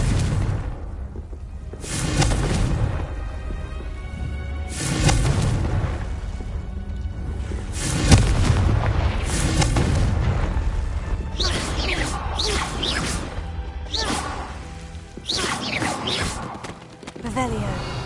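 In the Hogwarts Legacy video game, the Confringo fire-blasting spell goes off in repeated booming bursts and crackling blasts, loud and close, with game speech and music mixed in.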